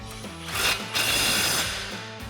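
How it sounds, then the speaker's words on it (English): On a RAM 1500 front suspension, an upper ball joint nut is tightened with a 21mm socket on a swivel, producing a close, loud mechanical whirring rattle of about one second that fades off. "Now we'll tighten down our upper ball joint nut with our 21mm socket and swivel"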